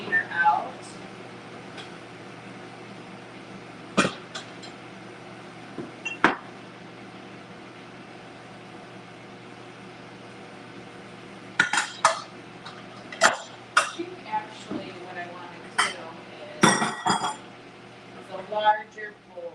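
A container is pulled out in a kitchen while cashew cheese is being made, with sharp scattered clinks of dishes and utensils against a quiet background, bunched into rapid clusters in the second half.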